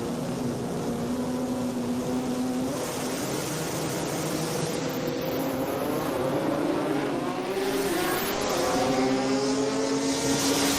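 A drag race car revs at high RPM as it launches at the World Cup Finals drag racing event, a loud, steady engine roar with rising pitch sweeps that holds for about eleven seconds and has no talk over it.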